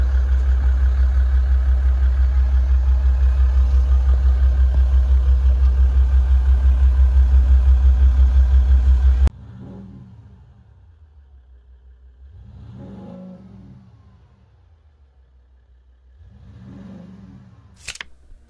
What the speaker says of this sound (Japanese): 特徴的なエンジン音も少し聞いてみてください。